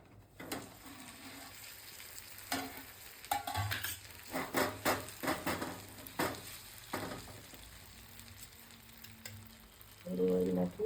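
Handvo batter of rice and lentils with vegetables sizzles in oil and sesame seeds in a pan, a steady frying hiss broken by intermittent scraping and clattering from a utensil, with a louder burst of sizzling near the end.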